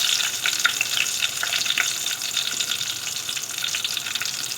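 Cumin seeds frying in a pan alongside mashed turnip, giving a dense, even hiss of sizzling oil that holds steady and close throughout without pause.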